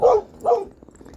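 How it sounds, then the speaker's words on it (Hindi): A dog barks twice in quick succession outdoors in a village, loud, sharp and close, followed by quiet background. "कुत्ता क्यों भौंक रहा है इतना बार?"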